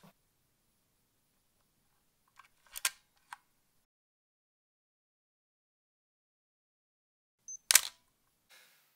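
Sharp mechanical clicks of a camera shutter firing, a few separate snaps with long silent gaps between them, close and crisp.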